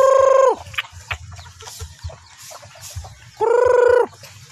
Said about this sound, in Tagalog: Ayan, mga manok dito.